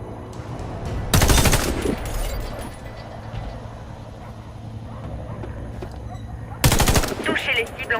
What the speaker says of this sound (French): Touchez les cibles en visant avec votre lunette.